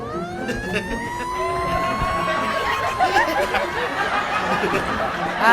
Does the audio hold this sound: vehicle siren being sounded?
yes